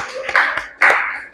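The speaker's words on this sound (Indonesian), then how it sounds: "aplaus untuk kelompok 2" Applause for a student group after their presentation, with a few bursts of hand clapping from a small group, close and moderately loud, ending in one strong burst.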